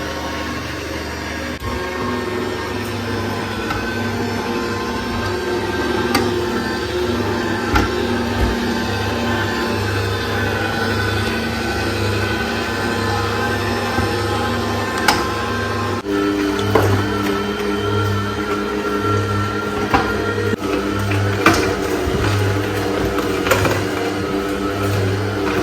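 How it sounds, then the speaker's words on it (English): An electric juicer machine runs while making anti-aging juice from carrots and orange, giving a steady close motor hum with whirring tones and occasional small clicks and knocks throughout. "Turn on our machine and then we start with the juice."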